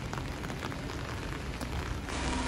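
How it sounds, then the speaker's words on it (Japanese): Steady rain falling on a street in Kyoto near Demachiyanagi station, a soft even hiss of drops on pavement with no voices, the downpour continuous and moderately distant. "雨足は強まっています。"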